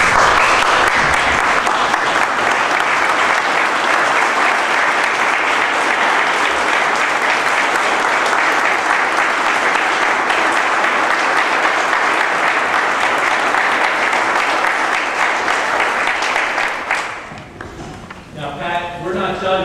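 Sustained, loud audience applause at a public meeting, with people standing to congratulate retiring colleague Pat Edwards, dense clapping filling the room for about seventeen seconds before tapering off into quieter sounds.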